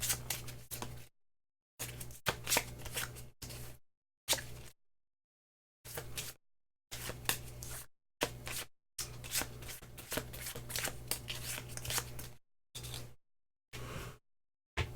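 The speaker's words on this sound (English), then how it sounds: "Shuffle them up." Board game cards from a solo Concordia session are shuffled in repeated short bursts of riffling and sliding, separated by brief silences, over a steady low hum, with no talking.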